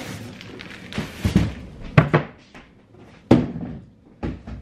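A drawer being opened and closed while newborn diapers are put away in a nursery, several close wooden thuds and slides spaced irregularly, alone without talk.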